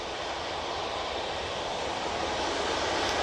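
A Qatar Airways Boeing 787 Dreamliner approaching Manchester Airport's runway 23 left, a steady broadband jet roar that swells gradually, heard alone from the ground.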